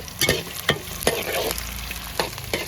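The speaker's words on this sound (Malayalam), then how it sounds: "അതിൻ്റെ കൂടെ ഇഞ്ചിയും പച്ചമുളകും കൂടി ഇട്ട് കൊടുത്തേക്കാം നല്ലപോലെ തന്നെ ഇളക്കി കൊടുക്കുക" Onion, garlic, ginger and green chilli frying in a pan, a close steady sizzle broken by repeated spatula scrapes and knocks about every half second; no talking.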